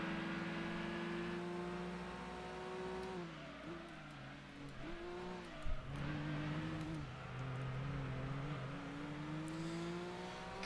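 A car engine in a racing video game revs hard and climbs through its gears, its whine rising, dropping at shifts, then rising again. It stays loud and continuous throughout.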